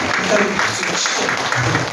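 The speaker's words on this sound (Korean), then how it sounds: "일단 박수를 치죠." Audience applause at a church gathering, a steady, moderate patter of clapping from a room of people throughout, with a voice speaking faintly over it.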